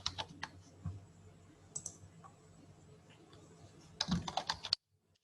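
Quiet clicks of a computer keyboard as a command is typed into a Command Prompt window: a few scattered keystrokes, then a quick flurry of taps near the end before silence.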